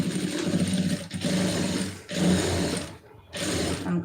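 A sewing machine stitching a garment seam in fast, steady runs of close mechanical whirring and clatter, three bursts of about a second each separated by brief pauses.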